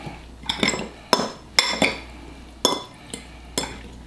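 A spoon clinks and scrapes against a bowl as salt is mixed into pico de gallo, with several sharp metallic taps and stirring strokes in irregular rhythm, close and clear with no talking.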